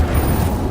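An Incendio fire spell in Hogwarts Legacy erupts with a brief, rumbling whoosh of flame, a short low-heavy burst heard alone.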